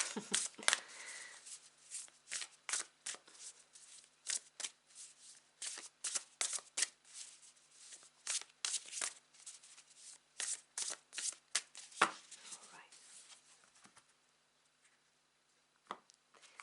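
A deck of tarot cards is shuffled by hand in quick riffling bursts, crisp close flicks and snaps repeating irregularly before trailing off into near silence at the end.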